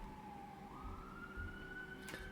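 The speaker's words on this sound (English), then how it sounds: "excuse the sirens. I don't know if you can hear them in the background." A siren wails in the background, its tone gliding slowly upward and holding steady over a low rumble of traffic noise.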